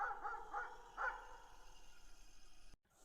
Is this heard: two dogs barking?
yes